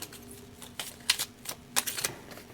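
Prop coins shuffled by hand during a cash-stuffing savings challenge, giving a few short, clinking metallic rattles in quick bursts, close and fairly quiet, with no talking.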